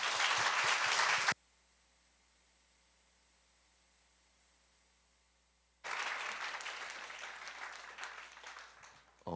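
Loud applause from a chapel congregation at a Sunday worship service welcoming a preacher to the stage, with a burst of clapping at the start, a long quiet gap, then another sustained round of applause.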